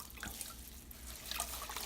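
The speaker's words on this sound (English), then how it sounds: "You want to wring it out." Wet grout sponge being wrung out over a bucket for tiling a backsplash, giving a soft steady trickle and dripping of water close by, with no voices.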